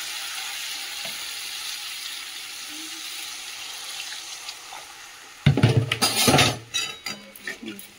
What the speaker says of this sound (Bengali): মশলাটা কষানো হয়ে গেছে, এবার আমি জল দিয়ে দিচ্ছি